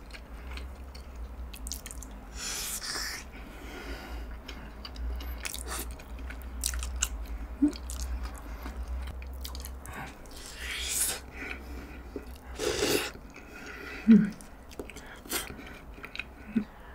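Close-up chewing of boiled pork wrapped with kimchi during a mukbang, with soft wet bites, occasional crunches and smacking spread unevenly throughout, some quiet murmurs between mouthfuls.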